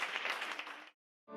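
Applause rises from a concert audience as a singer in a light violet dress takes the stage, a short burst of clapping that cuts off sharply and then briefly returns.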